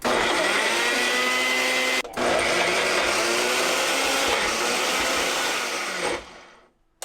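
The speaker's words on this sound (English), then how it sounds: "I like to blend it first and see how it sounds" A blender aboard a boat runs loudly and steadily, its motor straining through a thick smoothie, with a brief cut partway through before it winds down at the end.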